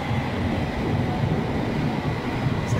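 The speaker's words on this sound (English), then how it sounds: "So there goes the train" A London Underground District line train pulling through a station: a steady low rumble of wheels and motors at moderate level, fairly close and continuous, with no clear speech.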